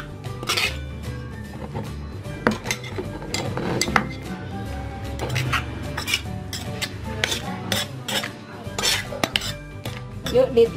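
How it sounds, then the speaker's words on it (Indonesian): Spices being pounded with a mortar and pestle for a coconut-milk clam dish in tomato seasoning, giving repeated clinking and scraping strikes with a steady rhythm, close and fairly loud throughout. "Bumbunya kita ulek terlebih dahulu ya, kita haluskan yuk."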